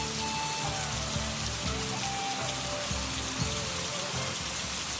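Heavy rain pours steadily during an outdoor children's skit, a dense continuous hiss with low hum and murmur beneath it and no clear speech.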